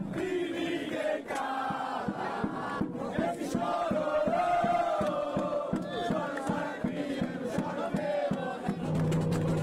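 An organized crowd of Tubarão football club supporters chants and cheers together on arrival for a match, with loud rhythmic singing and drum-like beats that carry on throughout.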